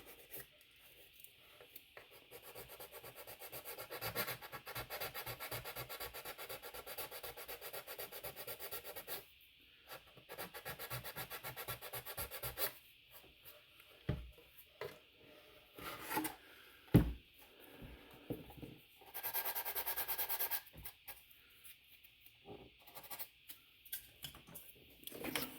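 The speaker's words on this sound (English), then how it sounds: "I need to get the whatever oozed out sanded down first." Hand sanding a sculpted Thor figure with folded 220-grit sandpaper gives soft, close scratchy rubbing strokes in bursts, broken by short pauses and a few light knocks.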